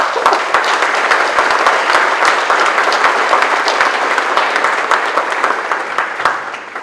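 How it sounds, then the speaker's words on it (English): Loud, sustained applause from a large audience at an Air Force basic military training graduation ceremony, honoring the military training instructors; dense steady clapping that holds for several seconds and tapers slightly at the end. "Let's give them a round of applause, please."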